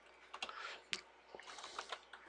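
Light typing on a computer keyboard at a Solaris command line, a quiet, irregular patter of individual key clicks with small pauses between bursts.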